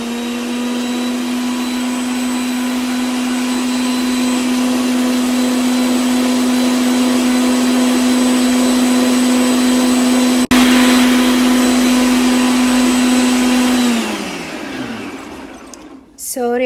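A loud, steady electric mixer whips cream cheese at high speed, a constant motor hum with a whine, then winds down and stops near the end.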